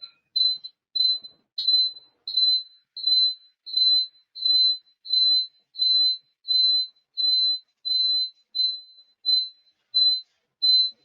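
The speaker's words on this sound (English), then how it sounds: "It's not my smoke detector." A smoke detector chirps in a steady series of about fifteen high, piercing beeps, evenly spaced and alone in silence.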